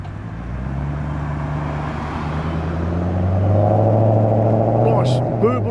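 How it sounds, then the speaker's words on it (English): A Mercedes 500 SEC V8 pulls in at a car show, its deep, steady engine burble rumbling close and loud, swelling slightly as it nears, with crowd chatter mixed in. "Nice burble of the V8."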